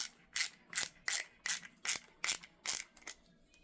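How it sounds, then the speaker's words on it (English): A small ratchet from a pocket-sized EDC toolkit clicks in a steady run of about nine crisp, close ratcheting strokes, evenly spaced and heard alone. "depending how much torque you need can depend on how big you make the ratchet"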